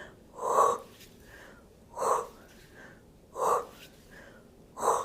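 Deep Pilates breathing during an intermediate no-equipment body sculpt workout, with four strong, evenly spaced breaths about every 1.4 seconds, close and wheezy, each separated by quieter intervals.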